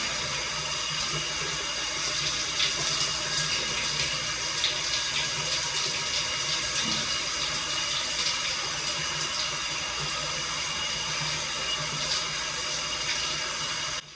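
Steady running water pours and splashes continuously while rinsing hair, like a faucet spraying into a sink or tub, with no talking throughout.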